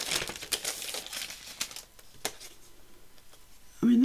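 Sturdy packaging holding die cut pieces crinkles and rustles as it is handled up close, in uneven bursts of crackling that ease off before a voice begins at the very end.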